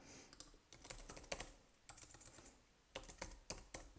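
Close, quiet computer keyboard typing in several rapid flurries of crisp key clicks with brief gaps between them, alone with no speech.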